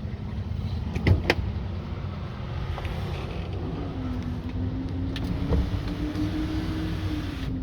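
In the cabin of a 2014 Ford F-150 Lariat 4WD, a power seat motor hums steadily at moderate level for several seconds, with a rising whine partway through and a couple of faint clicks, and no voices.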